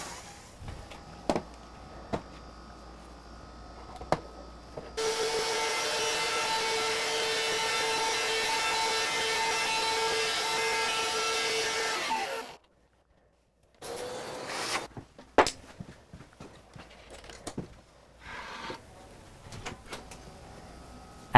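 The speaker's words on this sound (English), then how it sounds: "And now the keyhole bit that will create the thread." A router with a keyhole bit cuts a thread into wood while making a wooden hex nut, a loud steady whine lasting several seconds, then stopping, followed by quieter handling knocks and rubbing.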